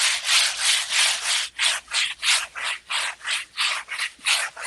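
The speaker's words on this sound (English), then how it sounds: "I'm just going to entertain people with the sound of sanding." Wood being sanded by hand in steady back-and-forth strokes, about a dozen even rasping passes in a regular rhythm, close and fairly loud with no talking.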